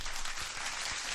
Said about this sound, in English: Actually, standing ovation,